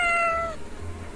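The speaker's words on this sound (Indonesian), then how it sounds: "Meow, emang meow doang sih, dia gak ada ngomong-ngomong." Gary the snail from the video game Sponge Glock Squarepants lets out a single short, clear meow with bright harmonics, fading into low room noise.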